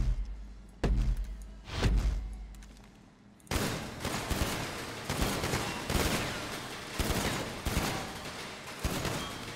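Rapid bursts of gunfire in GTA Online, a shoot-off match: after a couple of isolated loud thumps, dense repeated volleys of shots ring out continuously and loudly, with regular peaks roughly every second.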